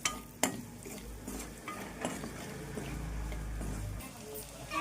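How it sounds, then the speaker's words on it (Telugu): Chopped onions fry in oil in a pan as a steady close sizzle, with a spoon scraping and clinking against the metal now and then. "ఉల్లిగడ్డ మంచిగా ఆయిల్లో ఉడికించుకోవాలి."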